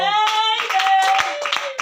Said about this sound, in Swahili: Pigie makofi yako.